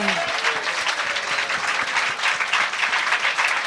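Steady applause from a church congregation clapping hands in praise during a worship session, a dense continuous patter filling the room, with a voice briefly audible at the start.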